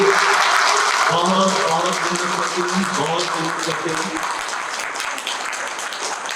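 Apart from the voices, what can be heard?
audience applause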